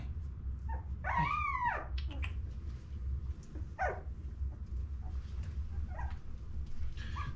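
Doodle puppies whimper and yelp in thin, rising cries, one longer whine followed by scattered shorter squeaks over a low background rumble.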